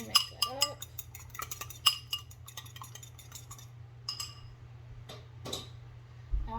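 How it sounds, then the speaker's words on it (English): Fork or whisk clinking against a bowl while one egg is beaten, quick light taps and scrapes that thin out into sparse clinks, close and fairly faint over a low hum. "we're just putting one egg in a bowl here, and I'm just going to mix that up"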